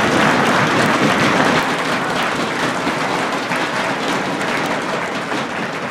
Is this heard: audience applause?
yes